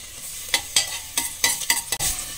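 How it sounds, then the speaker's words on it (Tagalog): Onion and garlic are sautéed in canola oil in a pan, a steady soft sizzle broken by several sharp scraping stirs of a utensil, close up and without talk. "Magigisa na tayo, mga besh."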